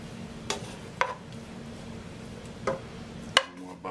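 Shrimp stirred and folded into a bechamel sauce for shrimp Florentine, giving a few soft, separate utensil scrapes and clinks against the pot over a low steady kitchen hum, close and fairly quiet.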